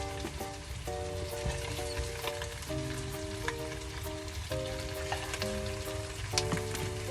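Beef short ribs searing in a pot, a steady crackling sizzle under background music, moderate and continuous.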